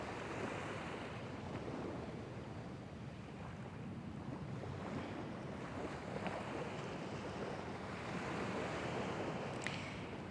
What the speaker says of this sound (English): you should be able to hear the ocean behind me